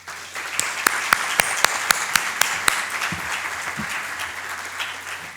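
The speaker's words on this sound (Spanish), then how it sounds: "Démosle la bienvenida a Jorge con un caluroso aplauso, por favor." An audience gives warm applause to welcome a speaker at an economics presentation, a steady wash of clapping with several sharp individual claps standing out early, a few faint voices beneath.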